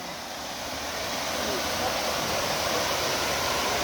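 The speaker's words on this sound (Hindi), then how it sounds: "यहाँ पे एक आर्टिफिशियल टाइप का झरना बना हुआ है।" Artificial waterfall in a park in Kashmir, a steady broadband rush of falling water heard close and loud throughout, building slightly and holding without a break.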